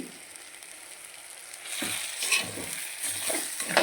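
Egg curry with spring onion and potato frying in a pan, a soft hiss at first, then louder sizzling with stirring scrapes as the mixture is moved around.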